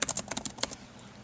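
A quick burst of about ten keystrokes on a computer keyboard as a tab name is typed, crisp and close, then falls silent.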